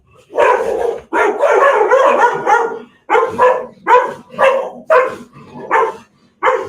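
A pet dog barks repeatedly indoors, close and loud, in a long run of rapid barks followed by a series of separate short bursts with brief pauses.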